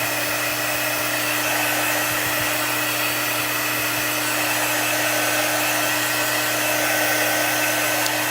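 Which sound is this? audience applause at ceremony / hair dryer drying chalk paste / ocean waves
hair dryer drying chalk paste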